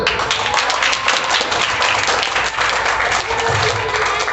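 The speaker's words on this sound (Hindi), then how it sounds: "ताली बजा दो" Students in a classroom clap together during an abacus lesson, a steady run of dense, moderately loud clapping lasting several seconds with no talk over it.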